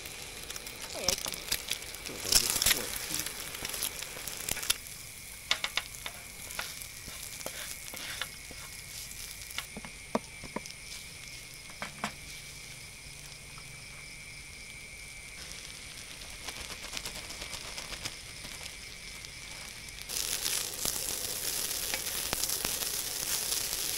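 Steady frying sizzle of rice with beef and a fried egg at a forest campsite, crackling and hissing continuously, with occasional sharper pops and stirring clatter, no talking.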